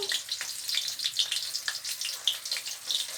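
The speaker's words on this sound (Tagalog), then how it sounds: "dalawang talong ang ating ipiprito para sa tanghalian" Two eggplants frying in a pan for lunch give off a close, crackly sizzle with irregular spitting pops, steady and moderately quiet, no talking.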